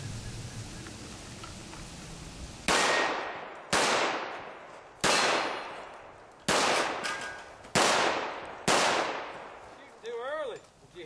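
Six loud gunshots crack out one after another at roughly one-second spacing on an outdoor range, each followed by a ringing decay as steel pepper popper targets are struck, with a short whistle-like tone at the very end.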